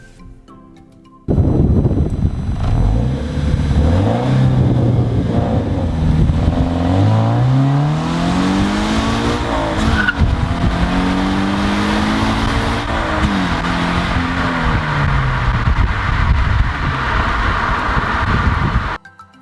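A Toyota 86 GTS sports car engine revs hard and climbs through several gears, loud and close, with rising pitch sweeps broken by brief shifts, continuing for most of the clip.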